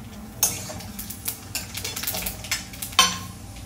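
Whole spices tempering in hot oil with sugar in a pan for chicken curry, a soft sizzle with a few sharp spatters and utensil clinks, fairly quiet and close.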